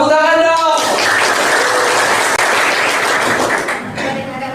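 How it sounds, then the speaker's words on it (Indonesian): An audience at an Indonesian school or learning event breaks into loud, sustained clapping that fills the room for several seconds, with a voice heard briefly before and after the applause. "Tepuk tangan dong."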